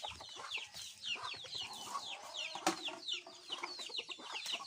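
Several chickens cluck and chatter continuously at close range, with one sharper squawk in the middle.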